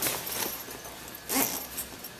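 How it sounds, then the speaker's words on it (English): Zippers being drawn along canvas boat curtains, two quick rasping pulls close by with brief handling noise between them. "I'll start my zippers"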